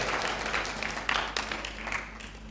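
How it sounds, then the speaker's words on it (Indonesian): Congregation clapping during a church sermon, a short stretch of scattered applause that is moderately loud and fades toward the end. "boleh kasih tepuk tangan"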